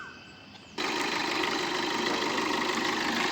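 The diesel engine of a Maruti Suzuki Vitara Brezza VDI automatic is heard idling, switching after a quiet moment into a dense, even rumble that holds steady.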